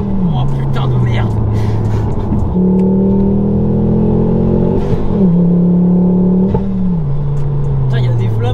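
A tuned 300 hp Ford Focus ST MK2 engine drones loud and near, its pitch rising and dropping through several gear-like steps as it pulls, with voices talking over it inside the car.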